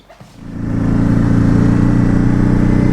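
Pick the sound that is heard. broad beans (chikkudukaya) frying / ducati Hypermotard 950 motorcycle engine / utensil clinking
ducati Hypermotard 950 motorcycle engine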